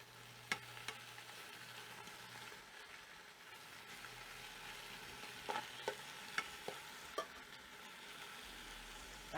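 Beef for barbacoa browns quietly in a pan with a faint, continuous sizzle, broken by a few sharp clicks and taps as pieces are placed and moved.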